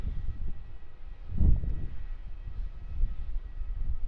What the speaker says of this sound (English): Airbus A330 going to take off